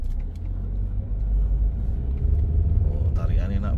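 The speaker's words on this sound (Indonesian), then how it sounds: "Nah, sekarang kita buat jalan ya" A 2001 Suzuki Baleno automatic's engine rumbles low and close, building slightly as the car pulls away, with a voice speaking briefly near the end.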